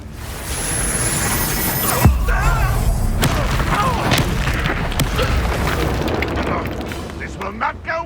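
A Confringo fire spell explodes in Hogwarts Legacy with a loud boom and crack near the two-second mark, under spoken spell names and other game combat noise.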